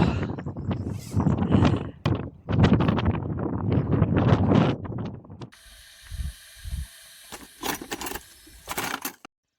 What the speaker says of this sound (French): Mais alors le vent, waouh.